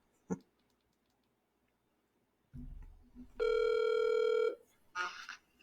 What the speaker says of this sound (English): If I can dial this before somebody calls me back.